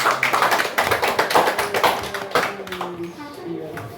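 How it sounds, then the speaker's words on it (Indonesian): A group of children claps hands in a steady burst of rapid applause that gradually thins out, with voices chattering faintly underneath. "Ya, tepuk tangan ya Nak ya."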